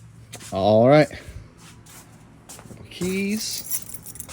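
A bunch of keys jangles around a newly bought car, two short metallic rattling bursts close by with a quiet pause between them.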